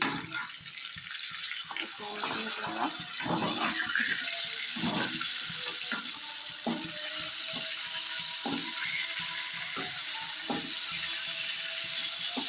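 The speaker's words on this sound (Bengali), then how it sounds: "দেখো এখানে সিলভার কাপ মাছটা আমি ভেজে নিচ্ছে" Silver carp pieces fry in hot oil, giving a continuous broad sizzle and hiss with scattered sharp crackles and pops throughout.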